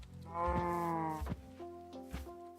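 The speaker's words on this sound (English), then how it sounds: "Come here, cow." A cow in the Minecraft video game moos loudly and drawn-out, followed by a few shorter lowing calls broken up by thumping game sounds, with no talking.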